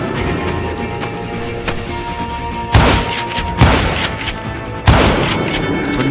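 Heavy double-barrel shotgun blasts from Call of Juarez Gunslinger crack out three times, spaced a second or two apart, each a loud broadband boom over a steady game background with no talking.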